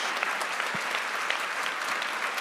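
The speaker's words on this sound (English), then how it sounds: "let's give a round of applause for our panelists today." Guests at a YMCA Key Leaders luncheon applaud their panelists, a full steady burst of clapping from a crowded room, loud and continuous throughout.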